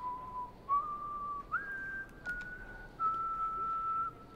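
A character in the horror video game House of Ashes whistles a slow tune, clear sustained notes with small pitch steps and brief breaks, heard alone and up close.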